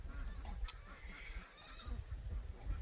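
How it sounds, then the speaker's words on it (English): Pet birds call out with honking, goose-like cries, a few scattered calls that sound fairly faint and distant against quiet background noise. "my birds are going crazy if you can hear them"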